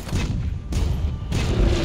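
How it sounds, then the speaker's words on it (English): Cannon fire in Monster Hunter World while fighting Zorah Magdaros: heavy, booming blasts in three successive thumps, each with a rumbling tail, with no talk over them. "Fire the cannon."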